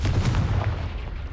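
In the Hogwarts Legacy video game, a Confringo fire spell bursts in a short, heavy boom with a rumbling tail that fades quickly.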